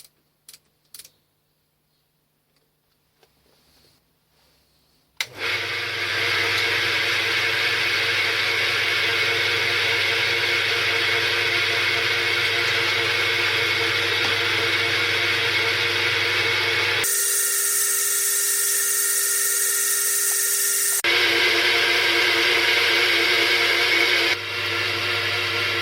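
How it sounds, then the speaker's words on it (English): A drill press chain-drills a slot in a metal lathe banjo, first a few faint clicks, then a steady loud whirring machine drone that runs for about twenty seconds with one shift in tone partway through. "The slot was first chain drilled to remove the bulk of the material."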